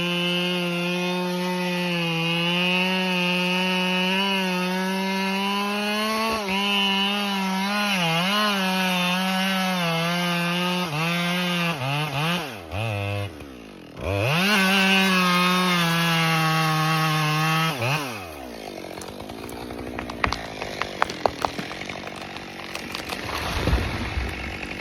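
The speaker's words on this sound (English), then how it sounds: "a worker operates a chainsaw, cutting deep into a large tree trunk" A chainsaw bites deep into a large tree trunk, its engine screaming steadily under load with pitch dips as the blade bogs and recovers, then a brief drop before a strained final stretch and scattered cracking as the tree gives way.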